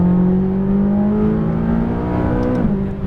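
A McLaren 570S accelerates at full power on a racetrack, its engine note close and loud from on board, rising steadily in pitch with a strong tonal drone before a brief dip near the end.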